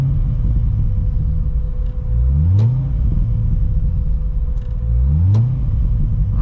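A C6 ZR1 Corvette with a modified exhaust revs twice over a rumbling idle. Each blip rises sharply and falls back, loud and close, with no talking.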